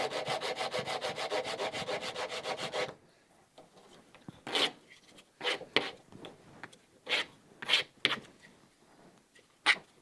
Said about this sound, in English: go at it with the sanding stick like you see me do here